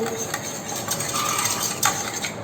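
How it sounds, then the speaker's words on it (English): Wire whisk clinking and scraping against a pot while beating a mixture with salt and sugar, a steady run of light metallic taps and swishes with a couple of sharper clicks, close and fairly quiet. "whisk it up, adding salt and sugar"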